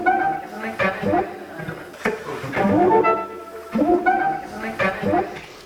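Torso S-4 sampler playing a sample with its delay send following the signal envelope, echoes swelling on the peaks and dropping away when the sample cuts out; several loud phrases repeat over about six seconds.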